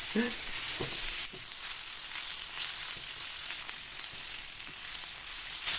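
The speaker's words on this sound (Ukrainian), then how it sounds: "Ну, хай ще тепер смажиться." Steady crackling sizzle of food frying in a pan, continuous and fairly close, with a few soft clinks near the start and no talking.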